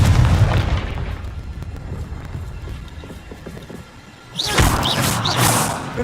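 A Confringo fire spell in Hogwarts Legacy bursts with a loud, booming explosion, followed by rumbling and a second crackling blast with rising whooshes near the end.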